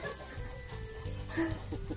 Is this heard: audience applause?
no